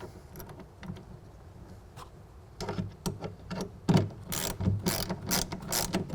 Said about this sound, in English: We're going to tighten that down with a 1/2 inch.